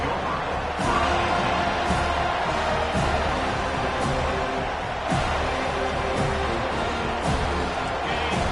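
Football stadium crowd cheering with a dense, steady roar that holds throughout, broken by a few sharper thumps and swells.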